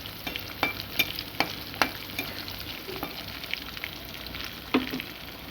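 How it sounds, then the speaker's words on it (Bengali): Onions and chopped green chillies frying in oil in a kadai, a soft steady sizzle broken by sharp scraping clicks of a spatula stirring. "কড়াইয়ের মধ্যে দিয়ে দিয়েছি পেঁয়াজ আর দিয়ে দেবো 5 ফোড়ন, কটা লঙ্কা কুচি দিয়ে দিয়েছি।"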